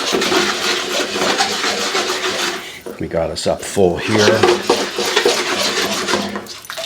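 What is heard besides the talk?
pouring pasta water and shrimp into pan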